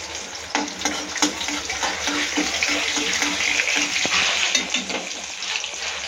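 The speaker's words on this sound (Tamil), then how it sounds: "கடுகு உளுந்து பருப்பு போட்டு பொரிஞ்சிச்சு." Mustard seeds and urad dal crackling in hot oil, a busy close sizzle with scattered pops and a few stirring clinks, no voice over it.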